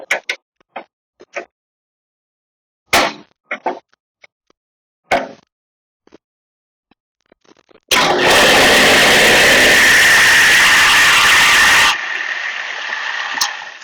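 A Shopsmith power station runs after a vibration fix, giving a loud, steady broadband whir for several seconds that shifts to a slightly different drone near the end, after a few sharp isolated clicks.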